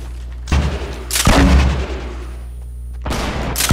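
A Fortnite headshot: a loud, close gunshot blast followed by a heavier booming shot and another sharp report near the end, each standing alone with no talk.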